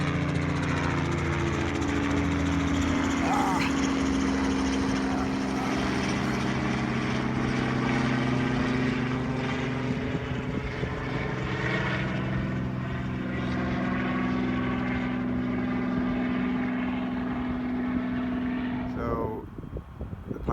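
A long-shaft helicopter with an extended rotor shaft runs steadily and loudly close by at an airfield, with a droning rotor and engine hum throughout, tapering off near the end.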